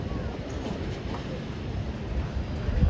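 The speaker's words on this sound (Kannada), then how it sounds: "ಪ್ಲಾಟ್ಫಾರ್ಮ್ ನಂಬರ್ 3 ಮೆಮೊ ಹೋಗ್ತಾ ಇದೆ" A MEMU train passes at platform 3 of a railway station, a steady loud rumble and roar of the moving train that fills the whole stretch, close by with no distinct voices.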